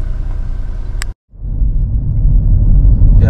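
A Ford Escape drives along a road, its engine and tyre rumble a steady, loud low drone that cuts out briefly before returning and building slightly.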